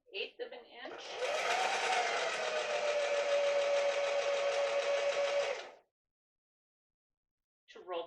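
A sewing machine running a short reverse lock stitch on fabric, with a steady mechanical whir lasting about four seconds between brief bits of nearby talk.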